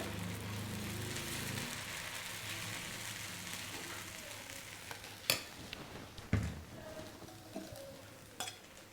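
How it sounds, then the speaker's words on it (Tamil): Egg dosa batter poured onto a hot pan, with steady frying sizzle throughout and a few sharp clinks of a ladle or utensil against the pan, fairly close. "அடுத்து நம்ம முட்டை தோசை ஊற்றிக்கலாம்"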